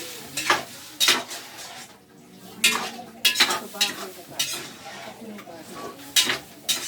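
Pork ribs being sautéed for arroz valenciana: repeated scraping spoon strokes in an uneven rhythm over a soft, low sizzle in the pan.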